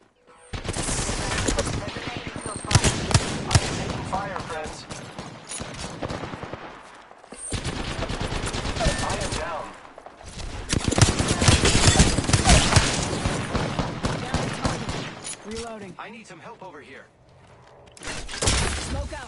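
Repeated bursts of automatic gunfire and impacts in a battle royale video game, loud and close, coming in several long volleys with brief pauses, with voices talking over parts of it.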